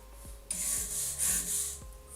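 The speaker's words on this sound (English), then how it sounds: "we're going to take the wire brush and simply brush it as you might brush your teeth" A wire brush scrubs loose rust and flaking paint off a metal pipe: a steady, close, raspy scraping that starts about halfway in and swells and dips with each stroke.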